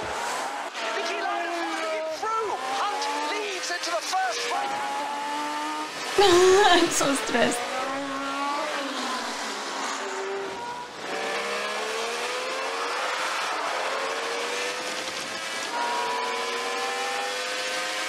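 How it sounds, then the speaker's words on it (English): A 450 horsepower race car engine in the film Rush howls and revs through shifting gears, loud and continuous with tyre noise, while people talk over it. "it must be almost impossible to drive a 450 horsepower car"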